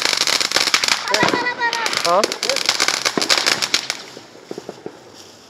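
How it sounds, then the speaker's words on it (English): Roman candle fireworks on the Fourth of July fire a quick run of sharp crackling pops and bursts up close, then thin out into scattered faint crackles, with people talking over the noise. "Is that a Roman candle?"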